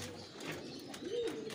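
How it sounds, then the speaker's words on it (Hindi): Pigeons cooing softly in a breeding loft for low-flying striped pigeons, a faint low coo rising near the end over quiet background ambience. "पट्टी वाले कबूतर जो कराची में कहा जाता है, ये उनके ब्रीडिंग सेटअप है।"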